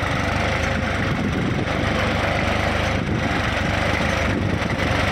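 An Indian tractor pulls a five-tine plough through a dusty field in low second gear at about 1500 RPM under load, its engine droning steadily and close with a continuous low rumble.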